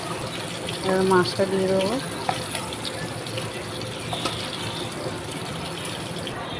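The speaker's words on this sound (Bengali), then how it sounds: "মশলা কষানো হয়ে গেছে, এবার জলটা দিয়ে দেবো" Water gushes steadily into a pan of fried spice masala for a thin Bengali fish curry made with bata fish and kulekhara leaves, a continuous close pour with a short voice speaking near the start.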